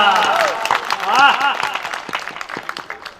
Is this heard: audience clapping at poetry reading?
yes